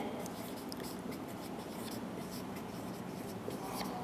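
A teacher writes notes during a seventh-grade science lesson on the small intestine, producing steady, close scratching and tapping strokes that continue throughout at a low level.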